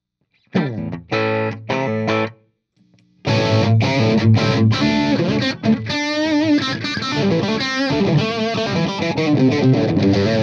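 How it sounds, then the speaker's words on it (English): Heavily distorted electric guitar through a Morley 2020 Distortion Wah pedal with gain at maximum into an amp's clean channel, a few chugged chords then a brief pause, followed by sustained saturated chords and riffs, loud and close. "let's hear how it sounds with the gain on the pedal cranked all the way up into the clean channel"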